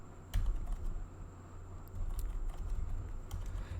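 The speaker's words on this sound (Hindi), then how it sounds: "मैं लिख लेता हूँ सैयद मज़हर" Close, soft clicking keystrokes tap on a computer keyboard while a name is typed, forming a steady irregular patter over a low background hum.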